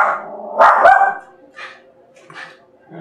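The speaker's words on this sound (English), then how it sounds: "The dog hears something outside." A dog barks indoors, a loud sharp burst followed by a few quieter, more distant yips and barks spaced out over a few seconds.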